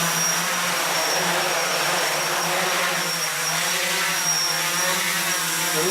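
A 450-size FPV quadcopter drone hovers nearby with a steady, loud whining buzz from its spinning props, holding an even pitch throughout.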